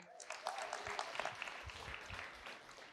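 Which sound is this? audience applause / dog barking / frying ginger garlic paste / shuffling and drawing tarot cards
audience applause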